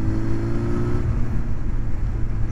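Yamaha 600 Fazer café racer motorcycle with a Leovince exhaust, engine running steadily at close range with a deep, continuous rumble and no voices.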